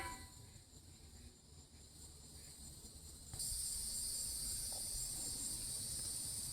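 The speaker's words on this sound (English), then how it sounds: "Listen to all those crickets and whatever else." Dense, steady insect chirring from crickets at night, a continuous high buzz that swells noticeably louder partway through, set against a faint low rumble outdoors.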